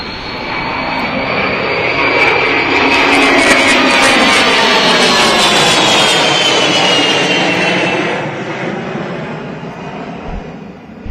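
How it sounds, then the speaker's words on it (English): Roaring jet engines of a Boeing E-3 Sentry at the Tinker Air Force Base air show, a loud sustained rumble with a rising then falling whine as the aircraft passes, fading away near the end. "as we listen to that jet"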